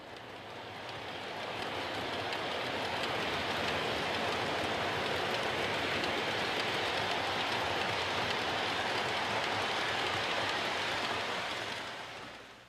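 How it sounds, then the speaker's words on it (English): An MTH Rail King F3 O gauge model train pulling twelve passenger cars up a grade gives a steady, soft, continuous rolling rumble that swells in and fades out. "Rail King F3s pulled 12 passenger cars with no problem."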